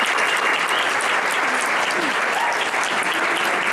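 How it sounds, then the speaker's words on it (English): Audience at a veterans' social capitalist luncheon applauds AmeriCorps members, a dense, steady round of clapping that fills the whole stretch at even loudness with no talk over it. "Let's give these AmeriCorps members another round of applause."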